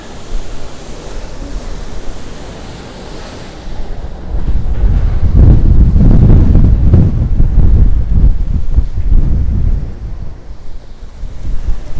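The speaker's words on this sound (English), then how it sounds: "Did I mention it's a bit windy?" Strong wind roars and buffets the microphone above the gorge at Ronda, Spain, in winter, growing louder and gustier partway through, with a deep rumbling blast and no voices.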